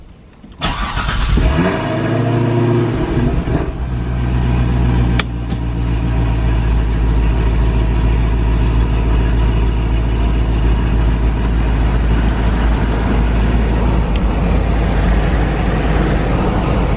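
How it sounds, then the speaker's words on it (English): A car engine cranks and catches, then runs at a steady, loud idle as the car is pulled out to be washed and prepped for a show. "So now I'm going to pull the car out,"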